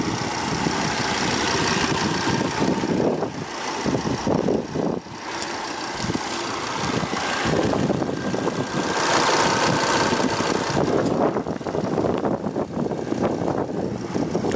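A 2016 Volvo S60 T5 AWD with a 2.5-liter turbocharged inline five-cylinder idles steadily with the hood open, a close, continuous mid-pitched hum and rumble with slight fluctuations.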